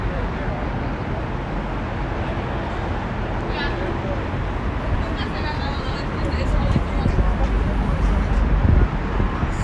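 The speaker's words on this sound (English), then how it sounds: "And so does the guy with the loud car." A loud car passes on the Las Vegas Strip during a daytime walk, its broadband roar swelling toward the end over steady street and traffic noise, with no talk in the clip.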